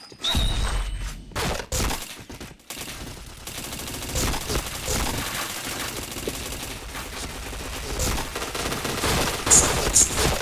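Gunfire in a shooter video game: dense, loud bursts of rapid shots and impacts filling most of the stretch, with brief gaps and a few sharper cracks.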